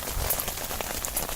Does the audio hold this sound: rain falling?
yes